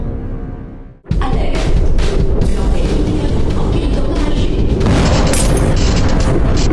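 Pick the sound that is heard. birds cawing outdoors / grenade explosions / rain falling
grenade explosions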